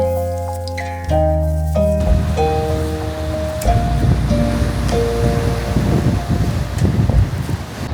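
Low rushing surf of waves on Puerto Rico beach, Gran Canaria, rolling and swelling, with gusty wind buffeting the microphone and a brief tonal sound at the start.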